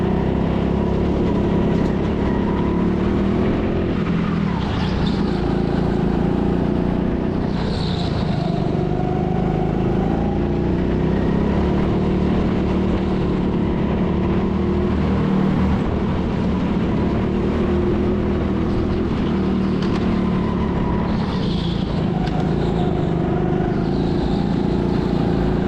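Go-kart engines racing around the indoor track at TeamSport Leeds, a loud continuous drone with shifting pitch as karts accelerate and pass, without talk.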